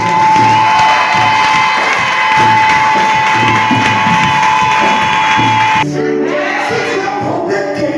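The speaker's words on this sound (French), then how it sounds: "Je veux que tu acclames Dieu pour la vie de mon père, si tu ne le connais pas, acclame-le." A church congregation cheers and shouts in loud acclamation of God, a dense sustained crowd roar that cuts off sharply near the end into quieter scattered voices.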